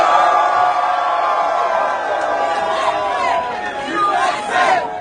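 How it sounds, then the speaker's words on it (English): A crowd cheers and whoops with a dense babble of voices, loud and sustained throughout, individual shouts rising above the noise. "Everyone cheer."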